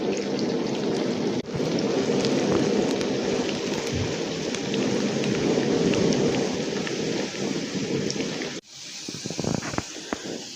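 Onions sizzle in a frying pan for a chicken dish, a dense, steady crackling hiss that carries on for most of the clip before cutting off near the end, leaving only scattered pops.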